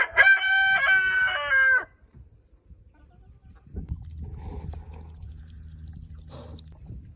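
A rooster on a farm crows once, loud and close, with a long drawn-out call, followed by quieter clucking and shuffling from chickens nearby.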